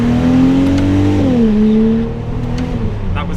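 A Ferrari 296 GTB accelerates very slowly and gently on a slippery surface, its exhaust a loud close hum that climbs slightly, drops with a gear change, then eases off.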